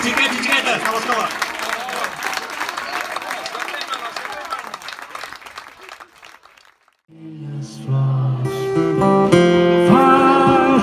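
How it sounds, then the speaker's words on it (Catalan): An audience of school children and adults claps and cheers together at an outdoor school event in Benifallet, a dense burst of applause that fades out and gives way to loud music starting up. "Aplaudiment per xiquets i xiquetes de l'escola."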